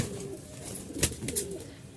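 A pigeon coos briefly and softly nearby, a single low call in a quiet setting among pet pigeons of the Andalusian color type.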